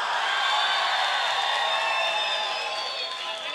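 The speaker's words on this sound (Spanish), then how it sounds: "¡Aplausos para Pamela!" Audience cheering and clapping for contestant Pamela at a live dance contest, a dense steady roar of whoops and applause with harmonic shouts throughout, loud and sustained.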